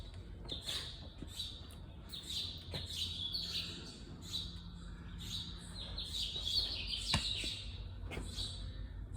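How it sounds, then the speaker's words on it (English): Small birds chirp and tweet repeatedly inside a railway shed at a railway museum, with bright overlapping calls at close to moderate range over a low hum of room noise. "Are those birds coming into the shed?"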